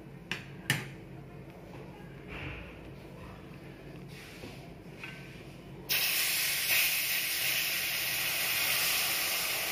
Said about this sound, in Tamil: இதை சேர்க்கும்போது பார்த்து சேருங்க, ஏன்னா படபடன்னு வரும்.